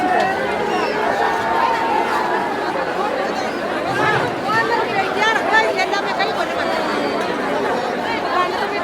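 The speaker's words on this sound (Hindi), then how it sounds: "तो आप देख सकते हैं गलियों का नज़ारा, कितनी भारी भरकम भीड़ है, बहुत धक्का मुक्की लग रहे हैं।" Dense crowd in the narrow streets of Pushkar, a steady close hubbub of many overlapping voices and chatter filling the whole stretch.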